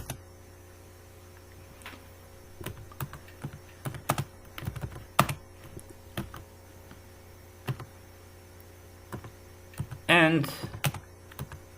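C++ code being typed on a computer keyboard, scattered clicky keystrokes in short bursts with pauses, close and fairly quiet, a brief louder clatter near the end and a single spoken word.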